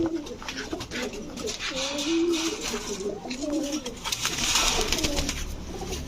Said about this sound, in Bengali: চুইঠাল বাবরা একটা মাদি কবুতর।